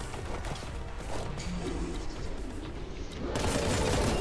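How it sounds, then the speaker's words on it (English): Grenade launcher explosions in the Warhammer 40K: Boltgun video game, a dense burst of crashing blasts and impacts that swells louder toward the end, with no talking. "Grenade launcher."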